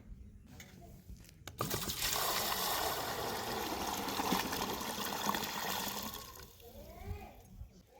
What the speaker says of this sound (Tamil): நம்ம வந்து விதை போடுறதுக்கு முன்னாடியே ஃபஸ்ட்டு கொஞ்சம் தண்ணி ஊற்றி விட்ருவோம்